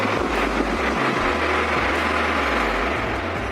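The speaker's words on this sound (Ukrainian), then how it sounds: "Вентилятор вмикається по тиску." A fan on a homemade split air conditioner built from scrap metal for a garage runs with a loud, steady close-up whir and low rumbling hum throughout, with no talk.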